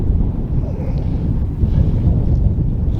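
Strong, steady wind buffets the microphone on a jetty, a low, continuous rumble, loud and close, with no voices.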